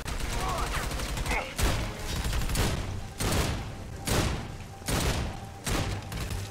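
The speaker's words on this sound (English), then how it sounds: "Yeah, this is way better than my previous shotgun." Shotgun fire in the co-op shooter video game Army of Two, six heavy booming blasts at a slow, roughly even pace, loud and close, with a rumbling tail after each shot.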